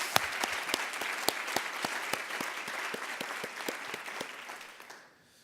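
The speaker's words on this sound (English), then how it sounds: "Please give him a round of applause." Audience applause at a district-wide Teacher of the Year celebration, with steady clapping from a moderate crowd that carries on for about five seconds before cutting off abruptly. No talking over it.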